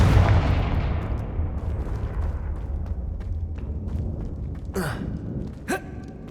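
A Confringo fire spell blast in the video game Hogwarts Legacy bursts loudly at the start and rumbles away over several seconds, followed by two short whooshing spell sounds near the end.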